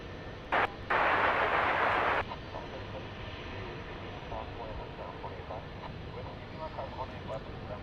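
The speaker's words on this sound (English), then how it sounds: "The old Dreamliner headed off to Sydney." A Qantas Boeing 787 Dreamliner departs at night, a steady distant jet roar beneath airport ambience, with a brief burst of radio chatter near the start and a voice talking over it.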